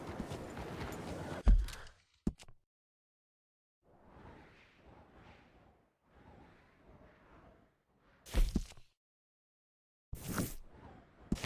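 Horse hooves clip-clop in Red Dead Redemption 2, coming in several soft spaced bursts of steps between louder bumps and swishes, with no speech over them.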